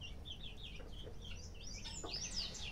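A Brahma hen infested with lice gives soft, intermittent clucks amid chirpy bird calls and steady background hum, fairly faint and without voices.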